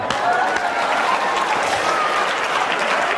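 Audience applause from a crowd at a Kinyarwanda comedy show, a steady dense clapping that runs through the whole stretch with a faint murmur of voices underneath.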